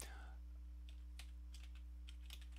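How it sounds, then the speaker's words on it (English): Keystrokes on a computer keyboard as a git commit command is entered, scattered soft clicks in short irregular bursts over a steady low electrical hum, close and quiet, with no talking. "now I'm going to type git commit dash m"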